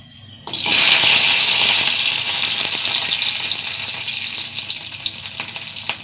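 Four garlic cloves dropped into a little hot oil for chutney, erupting in a sudden loud hiss that holds strong, then slowly eases into a steady close sizzle.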